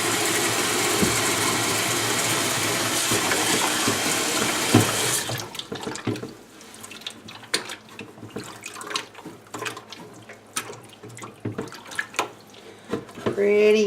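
Warm tap water pours into a goldfish tank, a loud steady rushing stream for about five seconds, then stops, leaving drips, knocks and handling noises.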